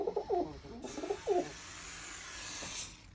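Pigeons cooing nearby in a loft, a few soft, throaty coo phrases in quick succession, then a sharp burst of spray hiss takes over.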